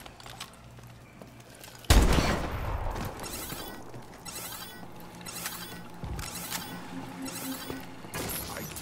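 Sustained gunfire in Call of Duty: Advanced Warfare's Exo Zombies mode, a loud burst kicking off a steady run of rapid shots with game effects layered over it, no voices.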